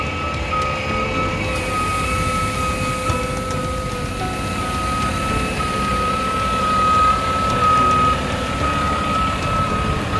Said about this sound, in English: I'm just gonna lower it down, and it's gonna shove the front tire into the ground